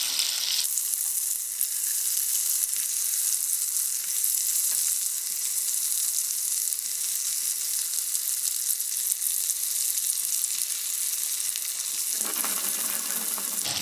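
Cooked potatoes browning in butter in a pan over high gas make a constant, even sizzle and crackle close by for most of the time before it cuts off near the end, with no talk.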